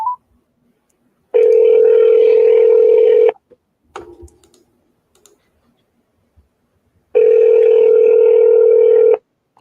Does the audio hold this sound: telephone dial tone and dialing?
yes